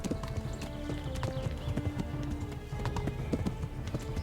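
Horse galloping in the medieval video game Kingdom Come: Deliverance, a steady rapid clip-clop of hooves running continuously and close up, with occasional harness clatter and no talk.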